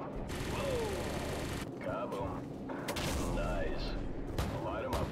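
An AC-130 gunship firing in Call of Duty 4, with heavy bursts of fire and booming impacts that come and go, under radio chatter from the crew.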